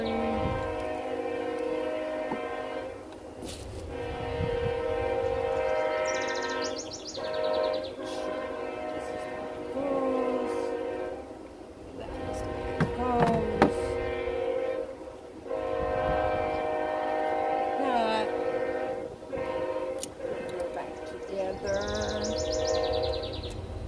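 A train rumbles past steadily and loudly, its horn sounding several times, with a few birds chirping faintly in the background.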